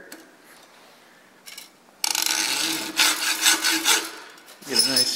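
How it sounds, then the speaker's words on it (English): A hacksaw cuts through a joint of meat with rapid, rhythmic rasping strokes after a pause and a couple of faint starting scrapes, close and fairly loud, with a final burst of sawing at the end. "So let's go grab a hacksaw and we'll lop right through that."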